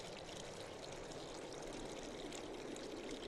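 Water flows continuously in the video game Inked, a steady, faint rushing stream with no break, heard alone without any voices.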